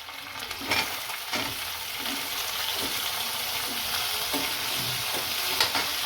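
Onions, green chillies and tomatoes fry for tomato chutney, a dense continuous sizzle with soft spoon stirring strokes throughout, close and steady with no voices.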